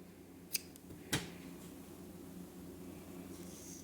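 Scissors give two quick, faint snips as they trim a crochet yarn tail in a quiet room.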